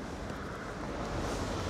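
Wind buffets the microphone outdoors on a cloudy, blustery day near Złoty Stok in Poland, a faint, steady low rumble with no other sounds.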